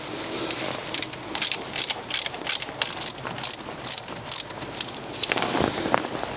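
Ratchet fitted with an E6 socket releasing screws on a BMW M57 diesel rocker cover, a close, loud run of rapid clicking bursts repeated in a steady rhythm, with no talking.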